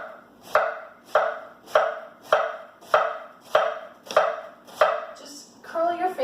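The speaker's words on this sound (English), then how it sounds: "we're going to do some really thin slices on this" A knife thinly slicing vegetables for coleslaw on a cutting board, eight evenly spaced crisp chops about half a second apart, close and clear, ending in lighter rustling.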